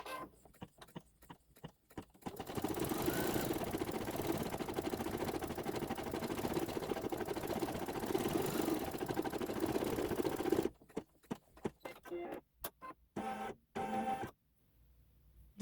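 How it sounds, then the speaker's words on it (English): A SweetPea embroidery machine stitches out the filled center tree of a Santa's Workshop quilt block, its rapid mechanical whirring running steadily for about eight seconds between shorter clattering starts and stops. "it will stitch out the bottom of that filled center tree"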